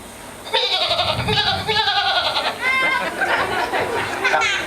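A man imitates a goat with his voice, giving a run of wavering, nasal bleats that rise and fall for several seconds, loud and close, with scattered crowd chatter in the background.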